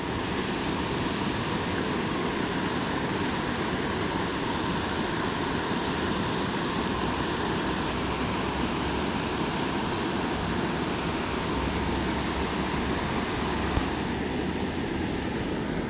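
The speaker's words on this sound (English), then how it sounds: "We're at the waterfall again." A waterfall on a small South Jersey creek roars as a steady, broadband wash of falling water, close and constant, with no break or change throughout.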